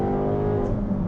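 A Chevrolet Corvette C8 Z06 engine holds a loud, steady, rumbling idle or low rev, a continuous close drone without speech over it.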